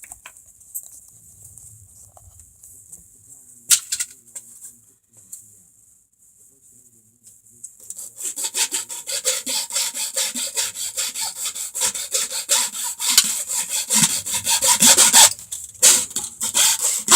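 A handsaw cuts off a piece of plastic for a homemade waterproof remote switch, beginning after a quiet stretch with a few scrapes, then settling into a steady, close back-and-forth rasping stroke.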